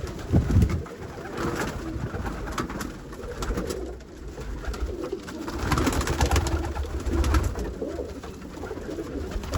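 Pigeons coo repeatedly at close range, soft throaty calls over a rustling outdoor background with no talking.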